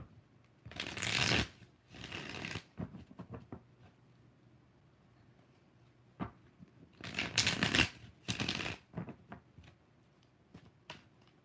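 Tarot cards are shuffled by hand in several brisk riffling bursts, two long ones and scattered short taps between quiet pauses, close and clear.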